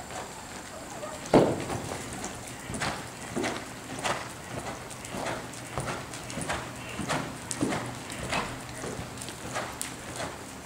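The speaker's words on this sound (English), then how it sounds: "It's a very nice soft trot." A horse in a soft riding trot, hooves clip-clopping in a steady two-beat rhythm on firm ground, moderately close, with a faint voice now and then underneath.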